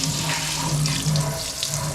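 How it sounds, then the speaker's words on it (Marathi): Water runs from a tap into a newly fitted basin in a house under construction, a close, steady splashing gush that stays even for the whole moment. "पाणी चालू केलं."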